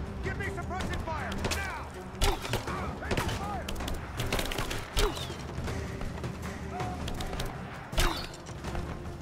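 Suppressive gunfire in the video game Rise of the Tomb Raider, a busy, continuous battle of scattered shots and sharp impacts with a few louder bursts, while voices call out over the noise.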